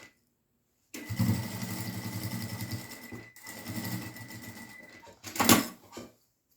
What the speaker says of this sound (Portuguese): Vou fazer essa costurinha aqui, com tecido alinhado à peça.